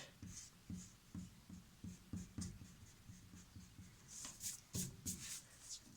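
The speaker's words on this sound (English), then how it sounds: "Erase everything inside." A pencil drawing is erased with quick, evenly spaced rubbing strokes, about two per second, quiet and close, ending in a few harsher scrubs.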